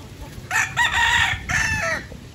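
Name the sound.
rooster crowing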